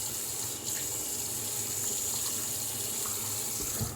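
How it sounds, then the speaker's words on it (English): Steady running water poured onto a dog's coat during grooming, a continuous close hiss and splash with small shifts as the flow moves over the fur, no voices. "we're going to put even more water on it because it will handle it"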